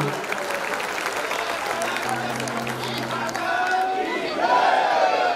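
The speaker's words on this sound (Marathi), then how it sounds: "एकदा टाळ्यांचा गजर बाबे दादासाठी करूया" Crowd applause at a community gathering in Chalisgaon, sustained clapping and crowd noise that swells louder toward the end, with some shouting and voices mixed in.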